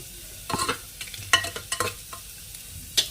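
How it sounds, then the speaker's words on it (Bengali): Moong dal and potato lightly frying in a pan, heard as quiet intermittent bursts of sizzling and stirring scrapes against a low, calm background. "মুগ ডালটা এবার এটাকে হালকা ভেজে নেবো একটু যাতে ভাজা গন্ধটা বেরোয়"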